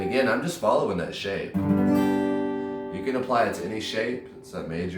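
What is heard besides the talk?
No everyday noises stand out.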